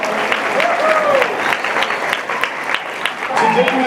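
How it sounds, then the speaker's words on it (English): Students applauding at a school rally: a loud, dense burst of clapping from a crowd, with cheering voices and a speaker's talk rising over it. "you can clap it up for that"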